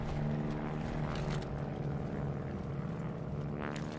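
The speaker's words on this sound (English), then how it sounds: "Are we gonna take down that plane?" Propeller airplane flying overhead in the World War II shooter Call of Duty: Vanguard, Battle of Midway, a steady loud droning engine hum that fills the whole stretch with a slight swell near the end.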